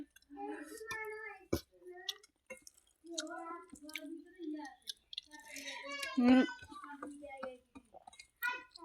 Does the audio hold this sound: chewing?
yes